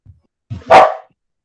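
A dog barks once, loud and close, after a couple of faint soft yips; silence follows. Heard from inside a church seminar room.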